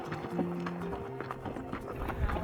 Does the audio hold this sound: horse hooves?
yes